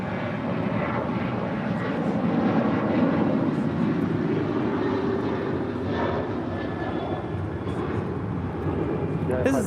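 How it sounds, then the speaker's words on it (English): A United Airlines Boeing 737-900ER departs LAX with a steady, broad jet roar that holds loud and close for the whole stretch, with faint radio chatter underneath. "This is United Airlines 560 departing to Austin on a 737-900ER."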